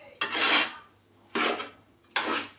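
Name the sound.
mixing leftover rice with lemon and turmeric in a pan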